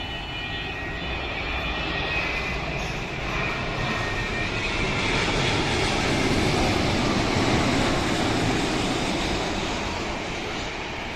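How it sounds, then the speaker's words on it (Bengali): A Gulf Air Boeing 787 Dreamliner lands overhead near Dhaka, its broad jet roar swelling louder toward the middle of the pass before easing slightly, with no voices. "এটি গালফ এয়ারের বিমান এটি বাহরাইন থেকে"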